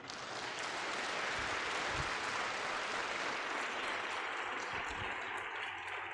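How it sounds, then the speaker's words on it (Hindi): Congregation clapping in praise of Jesus during a peace festival service at St. Paul Cathedral in Raipur; a continuous wash of clapping holds at a fairly even, moderate level, with a couple of low thumps. "यीशु जी के लिए ताली बजाएंगे जोर से।"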